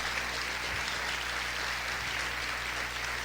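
A church congregation applauds during a sermon, a soft, even wash of clapping that stays steady and fairly distant over a low hum for a few seconds.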